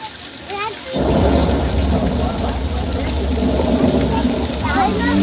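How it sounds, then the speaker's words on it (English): Artificial rain pours down loudly and steadily on a Universal Studios tour set staged as Old Mexico, with low thunder-like rumbling throughout after a quieter opening second, and voices faintly audible under the downpour. "Welcome to Old Mexico, you all, where we can make it rain anytime we need to."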